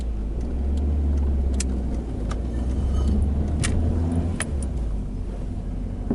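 A Nissan Primera drives along a road near Krioneri-Tatoi and accelerates, its engine a steady low rumble under tyre and road noise, with a few sharp clicks and rattles from inside the car.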